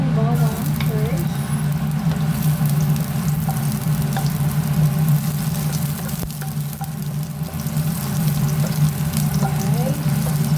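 Garlic sizzles and crackles steadily in a hot pan, a continuous close frying hiss lasting throughout with occasional stirring clinks, while a low hum runs underneath.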